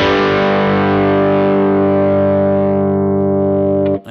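A bass guitar played through an Axe-FX III with Ampeg SVT amp and cab models and added tape distortion rings out as one loud, gritty, sustained note that fades slightly before being cut off abruptly near the end.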